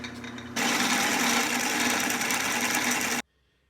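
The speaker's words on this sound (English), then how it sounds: "So I'm drilling these holes out in 3 stages. And my final stage is 1/2 inch." A drill boring half-inch holes through steel hinges lubricated with dirty diesel motor oil, a loud steady grinding whine that starts abruptly, runs for under three seconds and then cuts off, with no talk.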